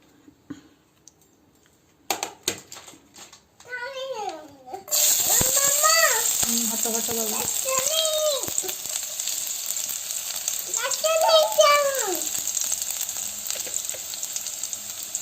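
Garlic hits hot oil in a wok for a noodle chow mein recipe, bursting into a loud, steady sizzle after a few quiet seconds, while a voice talks over it in short phrases.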